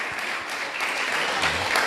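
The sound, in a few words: applause in church congregation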